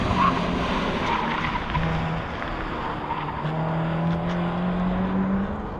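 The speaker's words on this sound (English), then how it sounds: "up here at the Hoodoo Autocross with some cars in the background here." Cars at the Hoodoo Autocross drive in the background, their engines a steady, moderately loud drone with rising and falling revs and occasional tire squeal.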